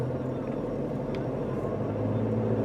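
A pickup truck's engine idles loudly, a steady low drone and rumble that holds evenly from start to end with no talking over it.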